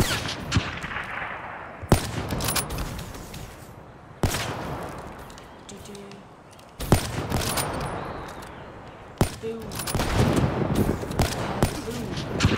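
Heavy shots from Marshall 16 guns in a video game ring out as about five sharp, booming blasts spaced a couple of seconds apart, each trailing off into a rumbling echo.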